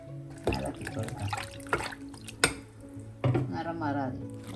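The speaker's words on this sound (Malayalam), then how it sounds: "വഴുതനങ്ങയെല്ലാം നമ്മൾ ഉപ്പിട്ട വെള്ളത്തിൽ നല്ലപോലെ കഴുകി വൃത്തിയാക്കി" Cut brinjal pieces are washed by hand in a bowl of salted water, with repeated splashing, sloshing and clinks of the bowl, moderately close.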